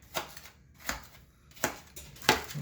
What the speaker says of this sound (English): we're going to cut some more apples in here